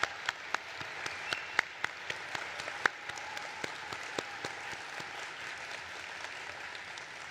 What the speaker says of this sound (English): Please give these well-deserving individuals a round of applause.